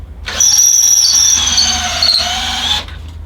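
A Bosch GSB 18 VE-EC 18V cordless drill whines loudly at high pitch for about two and a half seconds, then abruptly cuts out as its kickback protection stops the motor.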